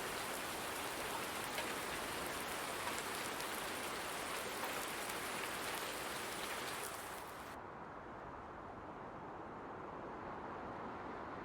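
Steady, dense rain falling in Farming Simulator 19 on a farm with wet crops, a continuous close hiss of drops on surfaces that holds at a constant level and becomes slightly duller near the end, with no talk.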